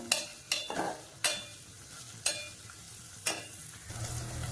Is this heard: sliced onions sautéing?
yes